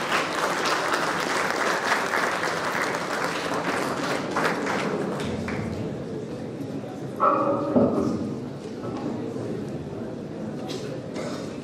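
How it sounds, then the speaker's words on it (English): Audience applause greets two speakers, Vinay and Nilesh, as they come up to the podium at an alumni colloquium, a steady wash of clapping running through the whole stretch with a brief louder burst partway along. "Please give them a huge round of applause."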